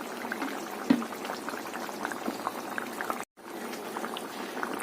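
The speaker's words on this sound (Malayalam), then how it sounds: "തിളച്ചപ്പോൾ നമ്മൾ ഇതിനകത്തേക്ക് ഒരല്പം പച്ച വെളിച്ചെണ്ണയും കൂടെ ചേർത്ത് കൊടുക്കുന്നുണ്ട്" A pot of crab curry simmers steadily, with a soft, continuous bubbling that holds an even level throughout and stops for a brief moment near the end. No one speaks over it.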